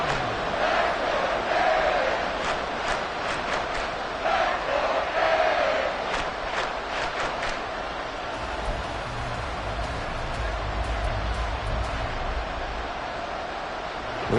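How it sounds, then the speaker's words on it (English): A football stadium crowd roars steadily during an NFL game with the Dolphins, a dense and continuous wash of voices and noise heard from a distance. It swells slightly in places but never breaks. "This crowd turning up the decibel level."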